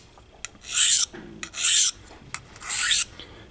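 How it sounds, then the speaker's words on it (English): Blade scraping on an Atoma 400 grit diamond sharpening stone, three rasping strokes in a steady rhythm, close and clear with short pauses between. "It's cutting nice and fast. I mean, fast for a 400 grit stone."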